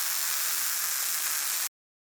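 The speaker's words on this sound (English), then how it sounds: "Gas MIG welding. Aim at the workpiece seam. Press trigger to weld." Gas-shielded MIG welding along a workpiece seam with an ANDELI MIG 205Pro Max welder, a steady close crackling hiss that holds evenly for under two seconds, then cuts off abruptly into silence.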